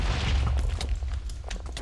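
An explosion in the Minecraft video game gives a loud, low, rumbling blast that fills the moment, with crackling debris trailing off behind it.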